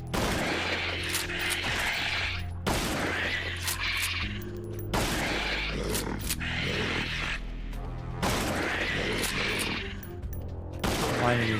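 Repeated gunshots in the top-down shooter Restricted Area, each a sharp blast with a lingering tail, coming in a steady rhythm of roughly one every one to two seconds under a faint voice.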